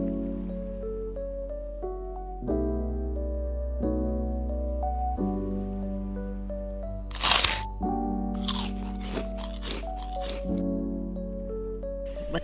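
Crunchy bread is bitten and chewed with a few sharp, brief crackling crunches heard over a steady musical background.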